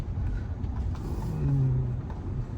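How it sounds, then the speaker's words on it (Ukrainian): A Tesla electric car, recently fitted with a replacement battery, drives along a public transport lane. Heard from inside the cabin, the road and tyre rumble stays steady and continuous without pause. "От як зараз я їду по смузі громадського транспорту."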